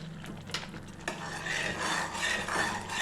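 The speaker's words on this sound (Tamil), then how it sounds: "நெய் சேர்த்துட்டு நல்லா கிளறி விடுங்க." A spoon stirs and scrapes thick papaya halwa with ghee in a pan, soft irregular rubbing and clinking strokes close up, with no talking.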